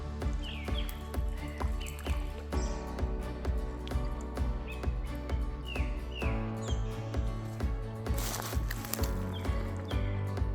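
Small birds chirp in short repeated calls over a steady rhythmic patter, with a brief louder rustling burst near the end.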